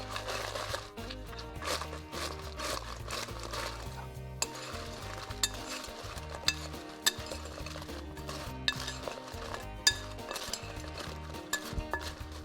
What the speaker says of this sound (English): So now let's put our fries into the Aloo Tiki spice mixture.